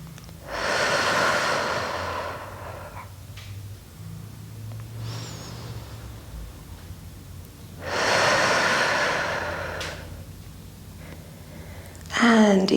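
Slow, deep breathing during a trauma-releasing tremble exercise: two long, airy breaths heard up close, each lasting a few seconds with quiet pauses between, and a short sharp intake at the very end.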